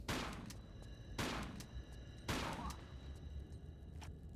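Gunfire from a ninja attacking the player in Tomb Raider: The Last Revelation: three sharp, loud shots spaced about a second apart, each with a short ringing tail, over a steady low game ambience.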